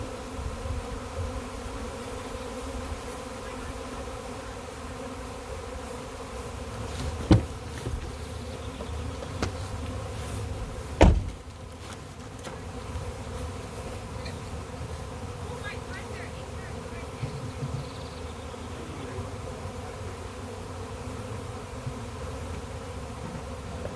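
A honey bee swarm being caught in Galesburg gives a steady, dense buzzing drone that fills the whole stretch, with a couple of brief sharp knocks partway through.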